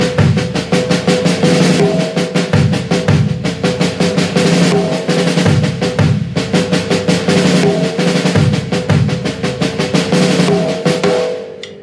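A drum kit groove played on just the bass drum and snare with the hi-hat left out, a worship-style pattern with steady thumping kicks and cracking backbeats, loud and close throughout with no voices.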